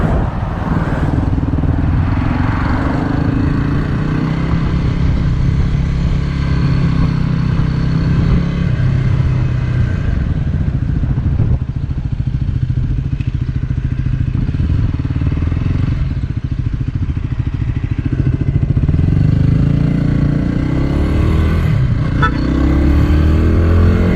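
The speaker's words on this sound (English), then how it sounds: "This bike just practically begs to have you flat the throttle wide open." Motorcycle engine held at high throttle, a loud continuous roar with a steady low drone that stays near and strong throughout, with slight swells toward the end.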